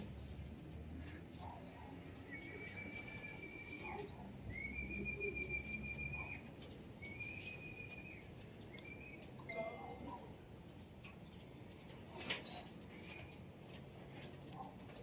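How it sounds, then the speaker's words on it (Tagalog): Soft, low cooing of racing pigeons at a pigeon race in Unisan runs under a steady hum, with thin whistling bird calls and a couple of brief fluttering bursts. "Another three birds po natin."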